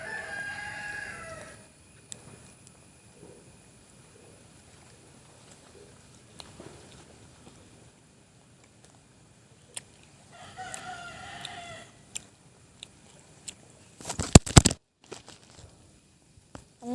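A rooster crows in a quiet outdoor setting, two drawn-out crows spaced apart over faint background, with a few sharp knocks and a loud clatter near the end.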